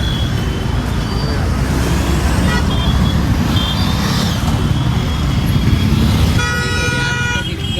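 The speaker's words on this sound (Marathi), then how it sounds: "सासवडच्या मेन चौकात इतकं ट्रॉफिक झालेला आहे" Dense, heavy traffic fills the main square in Saswad with a constant loud engine roar and rumble, car and truck horns honking repeatedly, and a long horn blast near the end, while voices talk in the background.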